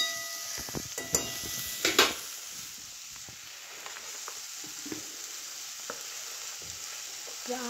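Chili powder and turmeric sautéing in oil for an amla murabba, with a few brief crackles and stirring scrapes early on, then a soft, steady sizzle.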